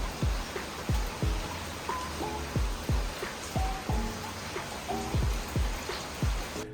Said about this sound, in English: There is no way it's raining right now.